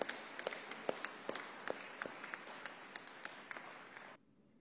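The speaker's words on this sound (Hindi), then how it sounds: "प्रधानमंत्री श्रीमान नरेंद्र मोदी जी का दोनों हाथ ऊपर उठा के ताली बजा के अभिनंदन करेंगे" A large audience at a political rally in Bhopal claps together, dense sustained applause with sharp individual claps standing out, loud and steady before cutting off abruptly near the end.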